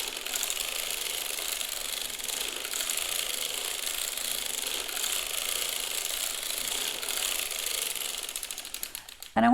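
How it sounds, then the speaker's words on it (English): A hand-cranked circular sock knitting machine with a ribber runs for several rows, giving a steady, fairly close mechanical clatter of needles and cams that ends with a louder clack. "So now I'm going to go ahead and crank a few rows,"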